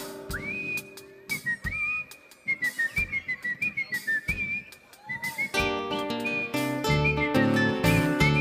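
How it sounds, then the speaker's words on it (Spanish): A person whistles a lively melody in a Litoral folk song from Entre Ríos, Argentina, the clear tune carried over accordion and band accompaniment, with the full band swelling in toward the end. "¡A silbar!"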